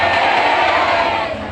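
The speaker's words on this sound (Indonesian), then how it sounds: "Sekali lagi tepuk tangan buat panitia dong" Audience at a religious gathering bursting into loud, close crowd cheering and shouting in a brief dense burst, with no separate applause evident.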